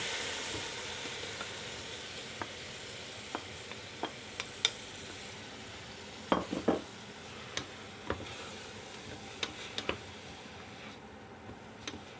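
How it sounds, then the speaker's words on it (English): Beef and wine sizzle steadily in a hot pan, a soft hiss running throughout with scattered clicks and small pops, the pops and spatters strongest around the middle. "Then the beef and the wine go in."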